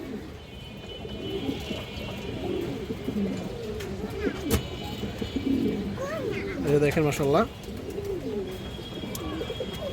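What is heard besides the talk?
cooing of Chuina pigeons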